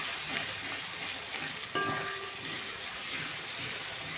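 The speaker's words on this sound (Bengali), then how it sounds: "এবার ধিমি আঁচে ভালো করে কষাই নেব" Turmeric and dry chilli powder fry in a pan over low heat for kochur boi bhaja, giving a steady soft sizzle with a brief scrape of stirring partway through, no voices.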